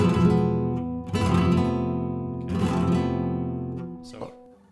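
Flamenco guitar playing a five-finger c-a-m-i-p rasgueado, with three bursts of rapid rolled chord strokes, each ringing out and decaying, followed by a short final stroke, close and loud.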